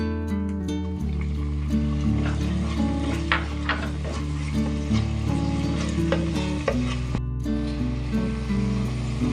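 Two tomatoes added to a pan for a village-style fish curry, sizzling steadily while a spoon scrapes and stirs in irregular bursts, all under continuous background music.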